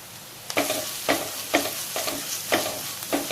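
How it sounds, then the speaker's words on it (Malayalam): Soya chunks coated in spice powders are stirred in a hot pan, with a rhythmic series of about six scraping strokes over a continuous sizzle, close and clear with no speech. "ഈ പൊടികളുടെയൊക്കെ പച്ചമണം ഒന്ന് മാറുന്ന വരെ നമുക്ക് നന്നായിട്ട് മിക്സ് ചെയ്ത് കൊടുക്കണം"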